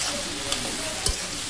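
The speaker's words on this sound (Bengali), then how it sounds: "করলা দিয়ে নাড়াচাড়া করে মিশিয়ে নিতেছি।" Sliced bitter gourd fries in a pan while being stirred, with a constant loud sizzle and a couple of brief scraping knocks from the utensil.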